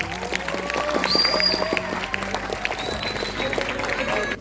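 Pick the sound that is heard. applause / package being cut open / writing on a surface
applause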